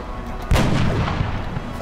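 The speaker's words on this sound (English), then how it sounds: "I'm gonna try and take out that back one with a headshot" Sniper rifle headshot in the video game XCOM: Enemy Within, a single sharp booming shot after a brief quiet lead-in, with a short rolling tail.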